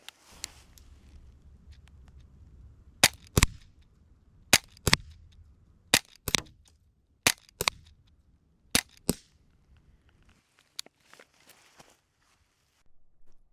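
A Sig Sauer M17 .177 air pistol fires Predator pellets into ballistics gel at 10 yards, with about seven sharp, snappy shots spaced a second or so apart, then quieter clicks and handling noises.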